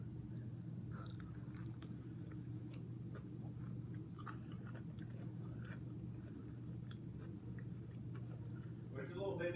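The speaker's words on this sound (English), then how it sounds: "It's like you have to chew it." Chewing of Burger King food, Cini-Minis and crispy chicken, close up: soft wet crunches and bites spread through a steady low room hum, with faint voices now and then.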